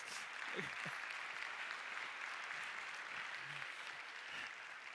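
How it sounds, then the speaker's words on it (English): A TEDx audience in Baltimore gives a speaker another round of applause, a steady, fairly distant patter of clapping that holds evenly throughout. "let's give her another round of applause"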